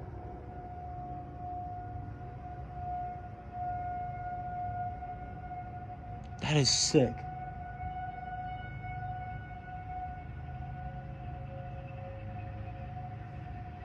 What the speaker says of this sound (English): You can hear the sirens.